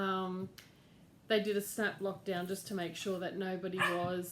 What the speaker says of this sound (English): sorry about the dogs in the background making noise